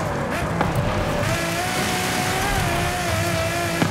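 Engine of a 2015 Ferrari F12tdf in the racing game Forza Horizon 5, a loud steady high-pitched roar held throughout at close range, with no talk.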